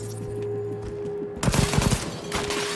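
Light machine gun fire in the video game Cyberpunk 2077, loud rapid bursts breaking in after a steady quiet game ambience, with a second burst near the end.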